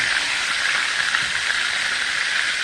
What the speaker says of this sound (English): When I'm frying chicken,